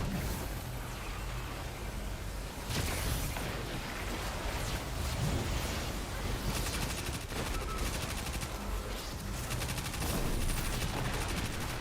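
Continuous rapid gunfire in the video game Destiny 2, dense bursts of automatic shots layered with impacts and effects, loud and sustained throughout with no talking.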